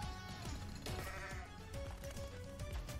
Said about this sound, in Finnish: Mitäs tää vuohi teki?